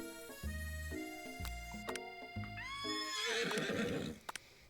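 Horse neighing from the video game I love you, Colonel Sanders: a loud, drawn-out whinny that rises and wavers, with stacked harmonic calls and a few soft thuds near the end, with no voices over it.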